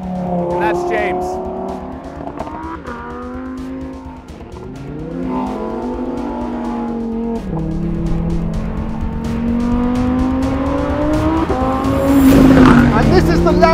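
A 2020 Lamborghini Huracan Evo Spyder driving, its engine tone rising and falling through gear changes, loud and close, with a sharp tire squeal building near the end.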